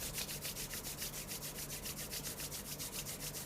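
Palms rubbed briskly together in a fast, steady back-and-forth rhythm for yoga palming, a close, continuous dry friction sound with no talking.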